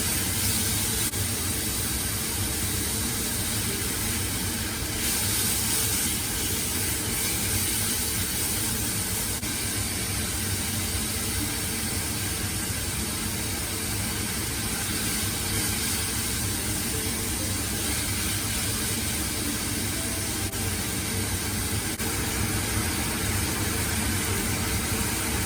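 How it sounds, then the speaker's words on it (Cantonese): Beef stir-fried in a wok with oil and minced garlic gives a loud, steady, hissing sizzle that runs without a break, with no voices over it. "將啲牛肉翻炒一下"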